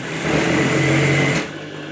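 A sewing machine runs in one steady burst for about a second and a half while stitching an elastic waistband on trousers, then stops. No one speaks.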